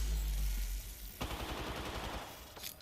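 Gunfire in the Apex Legends video game sounds as a dense burst of rapid automatic shots that starts abruptly partway through, preceded by low rumbling and followed by a brief higher whoosh near the end.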